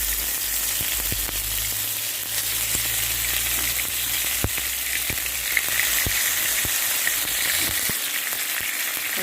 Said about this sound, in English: saute the shrimp for about a minute per side